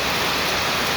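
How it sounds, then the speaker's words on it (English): Heavy rain pouring down in Florida, a dense, loud, steady hiss with no pauses and no voices. "it starts pouring rain"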